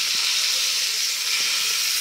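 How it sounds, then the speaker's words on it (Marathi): Hot tempering with curry leaves poured onto coconut chutney for idli gives a steady, close, bright sizzling hiss that holds evenly for two seconds with no talk. "हा चुरचुरीत तडका आपण या चटणीवरती आपल्या घालून घेऊया"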